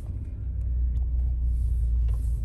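A car engine idles with a low, steady rumble in a car park, close and continuous with no talking.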